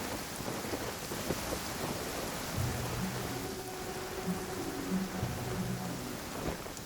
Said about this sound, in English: Don't stay out in the rain for too long.